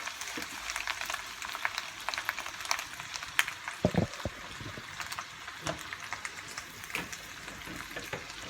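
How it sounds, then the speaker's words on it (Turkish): Butter melting in a soup pot, giving a continuous fine crackling sizzle with scattered pops and a few stirring knocks, steady and close. "Yağımız da burada eriyor."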